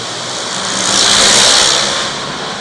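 The 77 race car's engine roars past loud and close, swelling to a peak and fading again over a couple of seconds in a broad whooshing pass-by.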